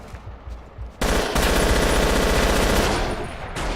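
Automatic weapon fire in the video game Battlefield Yugoslavia, a loud, sustained burst of rapid machine-gun shots lasting over two seconds, preceded by a quieter stretch and followed by another burst starting.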